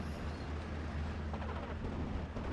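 In the video game Steel Division: Normandy 44, an off-map artillery strike lands on vehicles. It sounds like a dense, continuous low rumble of blasts, steady and muffled, with no talking.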